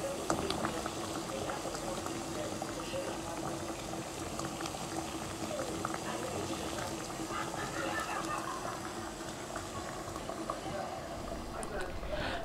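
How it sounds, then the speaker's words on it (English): Carrots and oil boiling together in a pot, a steady close bubbling and crackling hiss that runs continuously at an even level. "So we're going to boil this for 20 minutes so that the oil and the carrots can properly infuse"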